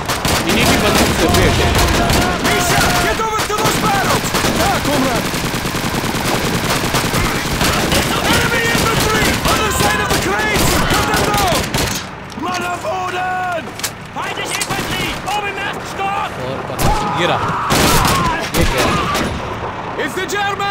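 Sustained gunfire and machine-gun bursts from an old World War II video game with German and Soviet troops, loud and dense with explosions, then thinning into scattered shots later, under shouted in-game voices.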